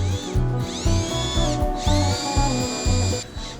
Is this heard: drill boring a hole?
yes